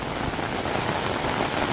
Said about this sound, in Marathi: आता आणि पाऊस बघा काय लागतोय तो